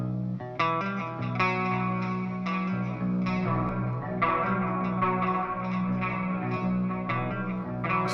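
A delay effect on a guitar groove in a home music studio: repeating notes over a steady sustained bass tone, with thick, echoing repeats that run continuously and loud, without any speech.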